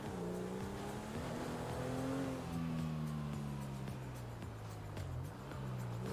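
A car engine drones steadily while driving in a video game, pitch rising and falling with gear changes and throttle, faint and continuous with a few tire noises and no voices.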